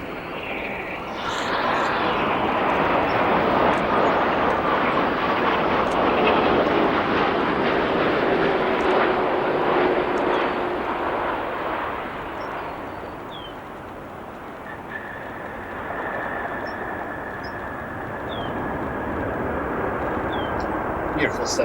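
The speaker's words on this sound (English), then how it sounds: "Beautiful 787 landing there" Boeing 787 airliner landing at O'Hare, a broad engine rush that builds and holds for several seconds, eases off, then returns with a whining tone, heard from a distance.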